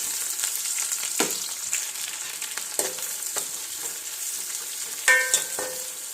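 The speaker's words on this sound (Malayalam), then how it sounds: "കറിവേപ്പിലയും സവോള ഇട്ട് കൊടുക്കും" Curry leaves and onion frying in a pan, giving a steady, close hiss of oil with a few sharper crackles and stirring scrapes throughout.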